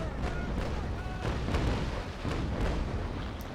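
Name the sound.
ship cannon broadside firing in Naval Action Legends video game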